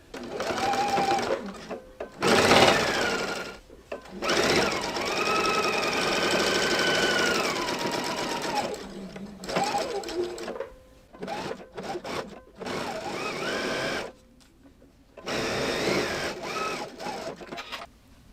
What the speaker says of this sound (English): I'm using just a straight stitch and a 1/4 inch seam allowance